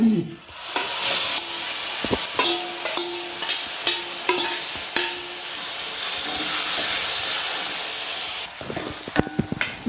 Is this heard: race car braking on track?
no